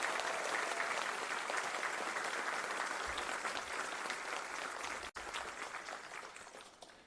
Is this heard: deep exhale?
no